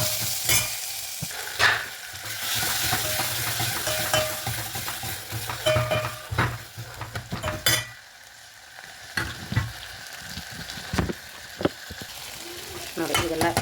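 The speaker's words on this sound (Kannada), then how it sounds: "ನೀರುಳ್ಳಿ, ಮೆಣಸಿನ್ಕಾಯಿ, ಕರಿಬೇವು, ಟೊಮ್ಯಾಟೊ ಎಲ್ಲ ಒಟ್ಟಿಗೆ ಹಾಕಿಬಿಟ್ಟು ಮಿಕ್ಸ್ ಮಾಡಬೇಕು ಚೆನ್ನಾಗಿ" Onion, green chillies, curry leaves and tomato stir-fried together for sambar make a loud, close sizzle with frequent scraping and clinking stirs of a ladle, settling quieter partway through before more knocks return.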